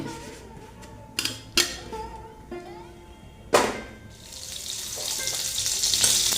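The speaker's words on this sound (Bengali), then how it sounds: "বেগুনগুলো সামান্য হালকা করে আমি ভেজে নিচ্ছি" Eggplant slices frying in hot oil for a vegetarian sesame-eggplant dish, a steady sizzle that swells louder and brighter toward the end, broken by a few sharp clicks and clatters of utensils.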